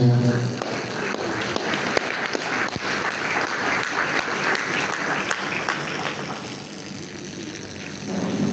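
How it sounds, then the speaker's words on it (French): Applause mixed with cheering from the congregation at a funeral wake held in a hall, a dense continuous clatter of clapping that fills the clip, slightly thinning near the end, with no speech over it. "Est-ce qu'on peut les encourager, s'il vous plaît, avec nos acclamations?"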